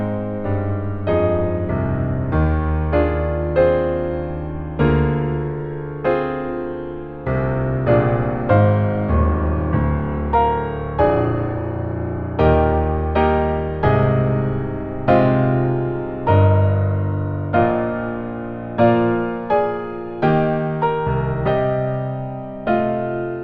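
A grand climax from Elgar's 1919 piece, loud thick major chords swelling in a steady succession of rich, sustained full-ensemble strokes with no voices.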